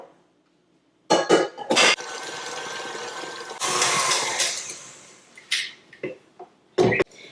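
Electric stand mixer beating a butter mixture for blueberry sour cream cake batter, a sudden loud whirring run with rattling bursts, then shorter stop-start pulses of the motor, close by.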